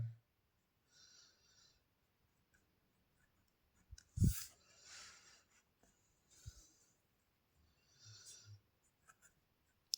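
A pen scratches across paper as a chapter name is written out by hand, producing short, quiet strokes separated by pauses, with a louder tap or bump near the middle.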